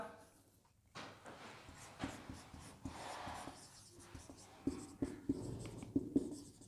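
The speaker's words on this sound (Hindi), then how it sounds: "सेंटेंस लिख रहा हूं यहां पर" A sentence is written on a board during a class 10 English lecture: scratchy, tapping strokes come in short bursts with brief pauses, close and moderately loud, with no talk.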